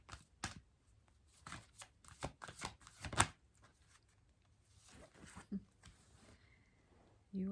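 A deck of cards being shuffled up close, with a rapid series of crisp riffles and snaps in the first few seconds, then softer handling and a brief voice near the end.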